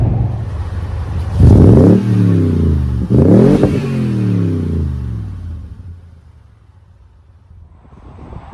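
Car engine revving hard under acceleration and downshifting, with two strong rising surges heard from inside the cabin, followed by the engine settling into a quieter cruise, loud and close with no talking.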